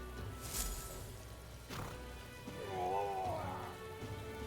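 Steady rainfall in Metaphor: ReFantazio patters across surfaces as a constant soft hiss, with a couple of sharp splashes and a faint warbling tone in a quiet game scene.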